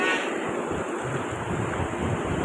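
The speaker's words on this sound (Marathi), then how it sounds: "ती लाटच आली माझ्याजवळ" Ocean surf at Arambol beach in Goa rolls in as a continuous broad wash of waves close by, with wind buffeting the microphone throughout and no one speaking.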